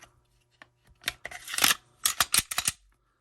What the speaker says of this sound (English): Listen to that trigger on the Glock.